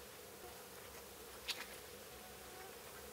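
Mosquitoes whine faintly and continuously outdoors on a trip to a cave in Finland, with a brief louder buzz passing close midway.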